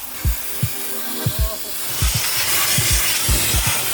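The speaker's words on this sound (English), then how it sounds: "We're gonna spray seal in here and spruce her up." Seam sealer sprayed onto a Toyota AE86 body, a continuous airy hiss close up that swells louder midway, with low knocking thumps tapping out an irregular rhythm underneath.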